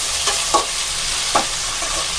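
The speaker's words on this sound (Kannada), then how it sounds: "ಎಣ್ಣೆ ತುಪ್ಪ ಎಲ್ಲ ಚೆನ್ನಾಗಿ ಕಾದ್ಮೇಲೆ ನಾವು ಕಟ್ ಮಾಡಿ ಇಟ್ಕೊಂಡಿರುವಂಥ ಪನ್ನೀರನ್ನ ಇದಕ್ಕೆ ಹಾಕೋತಾ ಇದ್ದೀನಿ." Paneer cubes frying in hot oil and ghee for a palak paneer gravy, giving a steady broadband sizzle with a couple of brief stirring scrapes, close and moderately loud, no talk.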